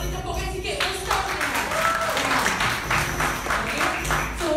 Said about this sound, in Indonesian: Boleh tepukkan sikit, ustaz.